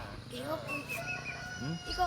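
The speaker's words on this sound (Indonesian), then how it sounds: "Suara ayam silih bersambut, membangunkan orang-orang yang sedang terlena oleh mimpi." Roosters crowing in the early morning on Mount Kerinci, several drawn-out calls overlapping one another and fairly close, with a voice speaking over them.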